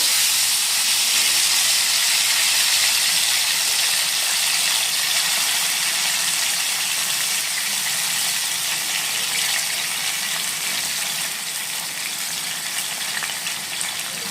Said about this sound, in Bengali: তেল কিন্তু গরম হয়ে গেছে, আর এখন আলু আর বেগুনগুলো দিয়ে দেব।